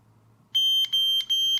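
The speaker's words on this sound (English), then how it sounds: "Once it beeps 3 times, that means the calibration is complete" After a moment of near silence, a Raven VSN guidance system with a Viper 4+ display gives three loud, high-pitched beeps in quick, even succession, signalling calibration complete.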